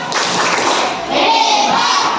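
A classroom group claps together in a short, loud burst during a maths lesson, a dense rapid patter lasting a couple of seconds.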